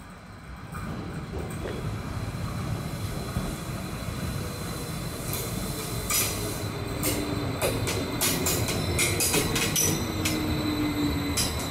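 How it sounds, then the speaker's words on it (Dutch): An ET 131 electric train pulls into Berchtesgaden station, a steady rumbling roar that swells toward the end as the train draws nearer, with faint high squeals and rattles over it; no one speaks. "De ET-131 komt er weer aan."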